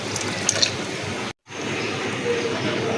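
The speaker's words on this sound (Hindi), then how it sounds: "ये 1 जग मैंने पानी लिया है और ये इसमें डाल दूंगी।" Water from a jug pours steadily into a pot of soaked rice for chana pulao, a continuous splashing stream with a brief break before it resumes.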